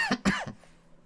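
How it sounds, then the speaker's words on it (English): A person coughs a few times in a quick cluster of short, close, throaty bursts, then quiet. "I am sorry if I cough again."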